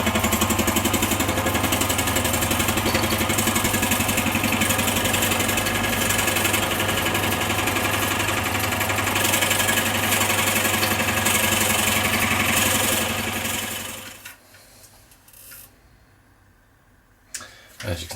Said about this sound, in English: So I'll start the lathe and we'll do that.